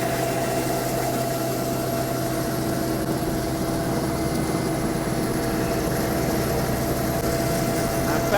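A Sea King helicopter flying a wingover, heard from inside as a constant loud rotor and turbine roar with a steady throb and no speech.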